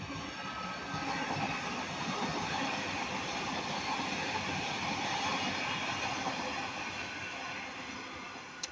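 A passenger train bound for Manchester Piccadilly passes at Ardwick, a steady faint rumble and hiss of wheels on rails sustained throughout with no talk.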